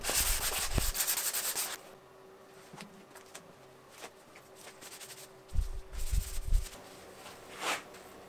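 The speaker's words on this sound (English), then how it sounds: "then I sanded it and cleaned it again and finally applied some hard oil." A wooden broomstick is sanded by hand in rough, scratchy strokes, with one opening burst, a long quieter stretch, then another cluster of short rubbing passes.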